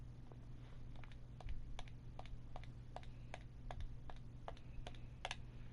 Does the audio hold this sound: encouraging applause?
no